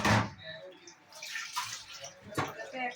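Water is tipped off marinated food in a kitchen, short splashing pours and drips in a few uneven bursts, fairly close, with a voice faintly present in the background.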